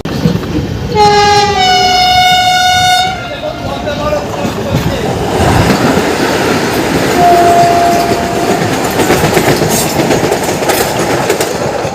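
A train horn blares for a few seconds over the steady rumble and clatter of a rolling express train entering Barddhaman Junction, then a second, fainter horn sounds later.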